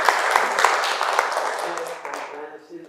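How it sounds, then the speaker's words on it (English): Lecture-hall audience applauding a professor after a talk on solar-powered EV charging stations: dense clapping that fades out over a few seconds. "let us give a big round of applause to Professor"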